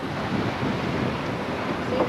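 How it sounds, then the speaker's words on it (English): Water rushes past the hull of a charter sailboat off Tortola, a steady, loud broadband wash mixed with wind buffeting the microphone, with no talk. "You can hear the water going by the hull."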